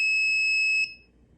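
An electronic buzzer on a circuit project sounds a steady, piercing tone at close range for most of a second, then cuts off into quiet room hiss.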